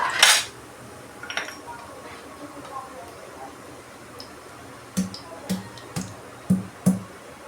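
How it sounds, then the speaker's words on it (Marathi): Garlic being crushed while cooking a Maharashtrian okra curry, heard as a burst of clatter followed by a run of sharp, evenly spaced knocks, fairly close, with faint kitchen noise between. "हे जे लसूण आहे ते थोडेसे ठेचून घेऊया आपण"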